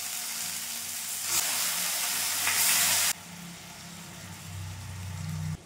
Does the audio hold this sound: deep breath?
no